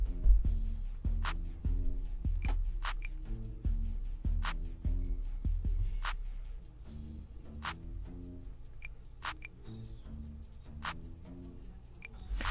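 Programmed synth hip-hop beat made without the Massive plugin: a looping pattern of crisp ticking hi-hat clicks and short, punchy low synth bass hits in a steady rhythm, quiet and even, no voices.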